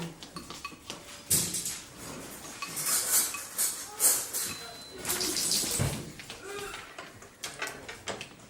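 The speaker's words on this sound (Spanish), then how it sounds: "I'm mixing my baking soda" Baking soda being stirred in a bowl while making slime, with clinks and scrapes of a utensil against the dish coming in irregular bursts, fairly quiet and close.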